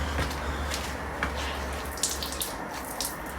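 A damp detailing applicator being wrung out by hand, water dribbling and splashing steadily into a sink, close and moderately loud with a few sharper drips and splats along the way.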